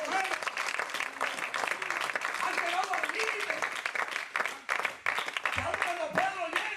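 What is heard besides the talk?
congregation applause in church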